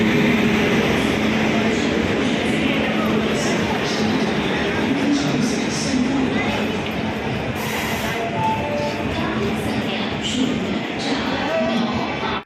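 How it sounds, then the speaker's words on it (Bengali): A crowded Ala Hazrat Express passenger train pulls out of Old Delhi station, its loud continuous rumble and rolling wheel clatter filling the scene nearby while faint voices murmur in the background. "আর আমাদের ট্রেন ওল্ড দিল্লি থেকে রওনা দিল আজমিরের উদ্দেশ্যে"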